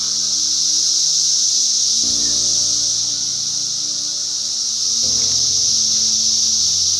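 A loud, continuous high-pitched buzz of 17-year periodical cicadas, emerged in 2021, drones steadily throughout, with a faint low hum shifting underneath.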